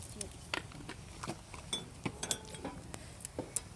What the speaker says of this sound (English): And stir it back in.